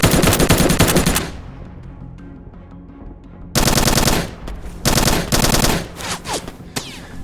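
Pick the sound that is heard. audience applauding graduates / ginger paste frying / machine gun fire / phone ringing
machine gun fire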